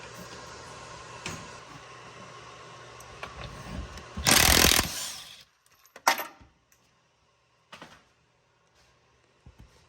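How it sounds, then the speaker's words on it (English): 12mm bolts being removed from a Prius harmonic balancer: a loud burst from a power tool lasting about a second, a shorter buzz after it, then faint clinks and handling noises. "Next, remove the harmonic balancer and all these 12mm bolts."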